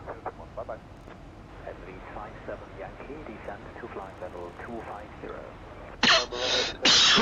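Two harsh coughs burst out close to the microphone near the end, following steady talk from a person narrating a flight-simulator descent into Marrakesh.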